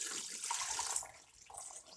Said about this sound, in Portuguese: vou colocar na panela e vou cobrir com água.